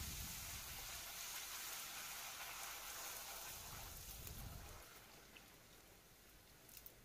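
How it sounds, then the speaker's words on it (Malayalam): Pathiri dough frying in hot boiling oil, a dense crackling sizzle that stays strong and steady, then eases to a quieter bubbling with scattered pops near the end; no one speaks. "ഇതിനെ നമുക്ക് എണ്ണയിലിട്ട് കൊടുക്കാം."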